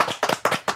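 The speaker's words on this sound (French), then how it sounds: "Je propose qu'on applaudisse tous Lauriane." Brief audience applause breaks out, a few close, sharp hand claps in quick uneven bursts, with no voices heard.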